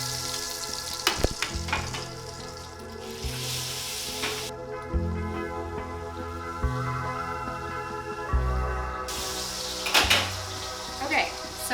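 Pork pieces fry in a pot with a steady broadband sizzle, broken by clattering bumps as pieces are moved and pulled out, and a person talks over the cooking.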